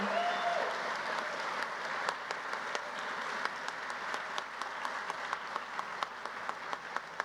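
Audience at an engineering master's hooding ceremony applauds faculty, a steady wash of many hands clapping in a large room with a few sharper claps standing out, continuing without talk.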